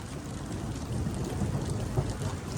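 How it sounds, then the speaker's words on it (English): Heavy summer rain pouring in Melbourne, a dense steady roar with low rumbling thunder underneath, continuous and moderately loud with no voices. "And there's the thunder"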